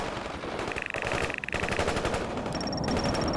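Video-game machine-gun fire crackles in dense, rapid bursts during a Third World War battle at Cascade Falls. Electronic beeps and tones sit on top of the continuous loud battle noise.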